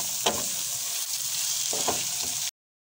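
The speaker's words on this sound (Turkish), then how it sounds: "Şimdi yeşil biberimizi, kırmızı biberimizi koyuyoruz. Biraz da onlarla kavuracağız." Onion with green and red peppers sautéing in a pan, a soft continuous sizzle broken by a few quick stirring scrapes, close and fairly quiet, ending abruptly in silence.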